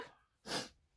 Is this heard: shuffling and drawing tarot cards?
no